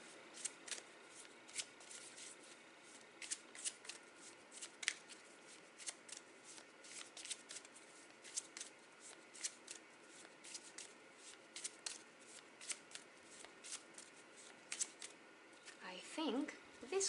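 Tarot cards being shuffled by hand, a steady run of soft riffling flicks and slaps through the whole stretch, close and fairly quiet, with a light knock near the end.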